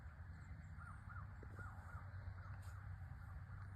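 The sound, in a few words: crows cawing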